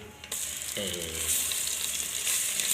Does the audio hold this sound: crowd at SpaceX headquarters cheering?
no